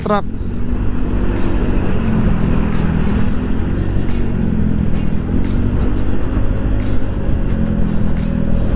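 Busy road traffic on an outing with family, loud continuous engine drone and passing vehicles with motorbike revs, a sharp chirp at the start, people talking throughout.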